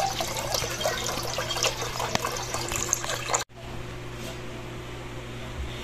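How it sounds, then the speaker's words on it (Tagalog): Water from a tap runs steadily into a cooking pot while preparing pasingaw, a loud continuous splashing stream that cuts off abruptly partway, leaving a faint hiss of room noise. "naglalagay na po si Mama ng tubig"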